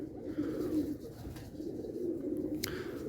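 Soft, repeated pigeon coos murmur close by in a low, rolling rhythm, with a faint background hiss and no speech.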